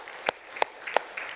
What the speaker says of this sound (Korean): 우리 서로 격려하며 옆 사람 보고 박수 한번 치도록 하겠습니다